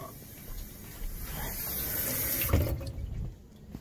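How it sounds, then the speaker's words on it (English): Water pours from a tap to fill the small reservoir of an electric egg maker, a steady hissing stream that swells, then cuts off abruptly near the end. "And then the water goes in here."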